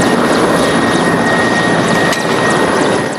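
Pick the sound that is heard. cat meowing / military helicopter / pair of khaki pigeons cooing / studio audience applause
military helicopter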